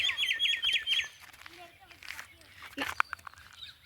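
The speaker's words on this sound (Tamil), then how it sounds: "அந்த குருவி கத்துற சவுண்ட்லாம் சூப்பராக இருக்குது." Small birds, including weaver birds, chirp in quick repeated trills, fairly close, with scattered calls and light rustling continuing after the first bright bursts fade.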